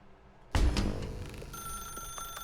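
A telephone rings in The Stanley Parable, a sudden loud ring that rises and then settles into a sustained, fading electronic tone, heard alone without talk.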